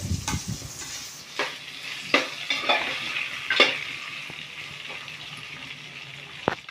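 Onions fry in a pan for paneer curry, a soft sizzle broken by several sharp scrapes and clinks as a spoon stirs them at uneven intervals, close by and with no speech.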